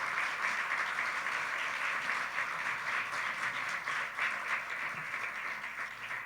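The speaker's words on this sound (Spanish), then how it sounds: "¿Por qué no le da un aplauso al Señor," A church congregation applauds together, a steady, dense wash of clapping that fills the space evenly from start to finish without fading or breaking.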